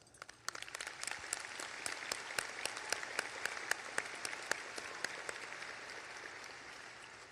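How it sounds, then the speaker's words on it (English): Audience applause at the 2023 St. Albans High School commencement ceremony, a steady wash of many hands clapping with sharp individual claps standing out, holding on for several seconds before thinning slightly. "I think that deserves an applause"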